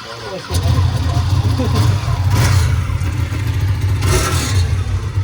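A Porsche Cayman GT4 on Angeles Crest Highway gives a steady, loud low exhaust drone that kicks in after a brief start, with a few sharper swells and people talking over it.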